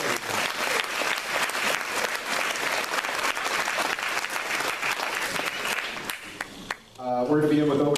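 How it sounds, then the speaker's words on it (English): Loud, sustained audience applause fills a school superintendent candidate forum, a dense wash of clapping for about six seconds before it fades and a voice begins speaking. "would you give them a round of applause for participating?"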